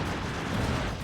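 In the video game Ratchet: Gladiator, a rocket blast from hidden crates sets off a dense, roaring explosion that fills the whole second at steady loudness, with no voices.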